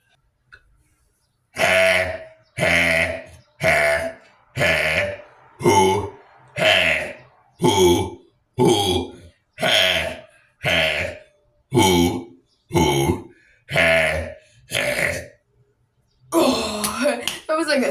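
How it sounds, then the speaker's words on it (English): A long run of about a dozen deliberate, loud, close burps comes in a steady rhythm with short pauses between them, followed by a burst of talking. "I just had the biggest burp"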